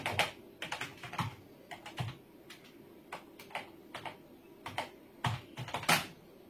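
Fast typing on a computer keyboard to enter a Google search, quiet, uneven clusters of plastic key clicks and taps with brief pauses, no voice over it.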